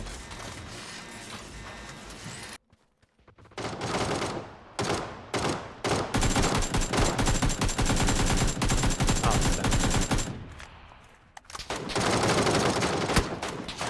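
Rapid automatic gunfire from PUBG, a battle royale shooter, in loud sustained bursts of dense cracks, with a short silent gap early on and another pause before the shooting resumes.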